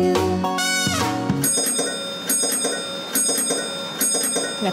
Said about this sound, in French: La cloche de l'autobus fait ding, ding, ding